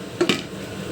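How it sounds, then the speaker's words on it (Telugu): Marinated chicken goes into a cooking pot, then the lid is set on, making two quick close metallic clanks less than a second apart. "ఇలా వేసేసిన తర్వాత మనం మూత పెట్టుకొని ఉడికించుకుందాం."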